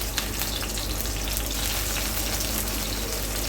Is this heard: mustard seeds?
yes